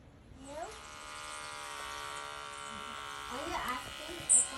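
An electric hair trimmer buzzes with a steady, close drone for several seconds, while voices talk over it.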